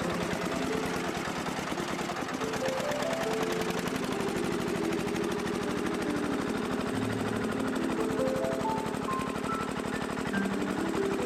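The Soviet DT-14 diesel tractor engine runs with a rapid, steady chugging knock, loud and close, with a background melody playing throughout.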